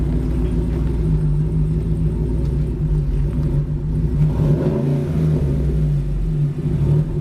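A 2017 GMC Sierra truck engine fitted with a K&N cold air intake rumbles loudly and steadily close by, with deep low-end drone and mild revving swells throughout.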